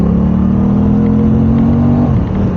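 An Aprilia RS660 motorcycle engine runs with a loud, close, steady droning hum that holds for about two seconds, then eases slightly as the note drops away.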